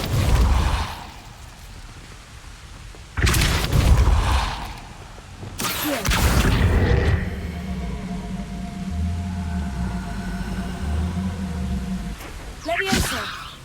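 Incendio fire spell in Hogwarts Legacy: short whooshing bursts go off one after another, followed by a rushing flame-like hiss and a steady mechanical hum, with a voice calling out spell names between them.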